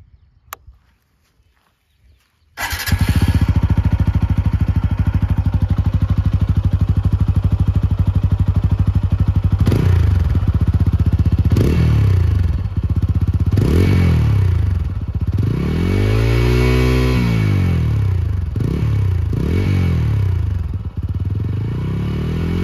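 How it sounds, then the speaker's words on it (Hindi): After a few quiet seconds a TVS Apache 200 4V single-cylinder motorcycle starts and idles with a deep thumping exhaust, then revs several times, rising and falling, loud and close. "इस बाइक का exhaust note is one of the best single cylinder motorcycle exhaust notes"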